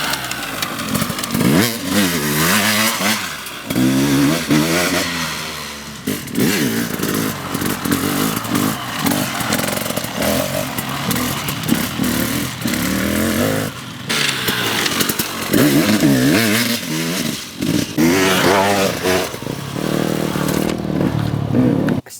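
A motorcycle engine revs hard in repeated bursts, loud and close, rising and falling with brief pauses between throttle blips.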